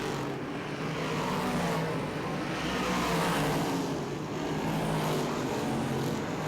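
Big block modified race cars roar steadily around a dirt track, engines droning in a continuous wash of noise at a moderate distance, with no voices.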